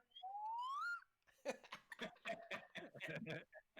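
A small slide whistle gives one short rising glide, clear and close, followed by people laughing and talking.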